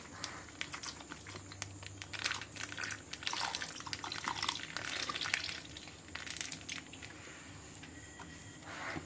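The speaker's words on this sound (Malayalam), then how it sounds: "ഇനി ഒരു 1/2 ലിറ്റർ പാൽ കൂടി ചേർത്ത് കൊടുക്കാം കേട്ടോ." Milk is poured into simmering semiya payasam with vermicelli and sago, giving a soft, continuous liquid splashing and bubbling texture at close range, with no talking.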